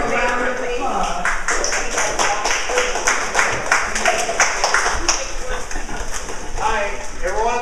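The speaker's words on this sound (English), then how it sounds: "Let's give him a round of applause." Audience clapping at a senior center talk, a brisk round of applause with distinct claps, mixed with a voice speaking over it.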